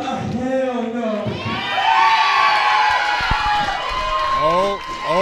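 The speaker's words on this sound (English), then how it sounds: "this crowd is ecstatic" A wrestling crowd at an independent show roars and cheers loudly and continuously, a dense wall of shouting and whooping with voices talking over it.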